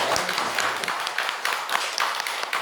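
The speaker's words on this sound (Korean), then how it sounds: "박수 한번 쳐주시기 바랍니다" Steady applause from a church congregation after a sermon, dense hand claps filling the space evenly throughout, fairly loud with no pauses.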